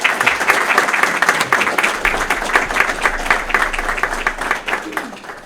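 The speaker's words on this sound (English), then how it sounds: "So a round of applause for all the staff" Loud, sustained audience applause for staff at a graduation ceremony, with dense clapping filling the room and rhythmic individual claps standing out near the front.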